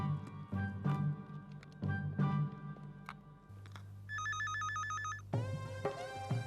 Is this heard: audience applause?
no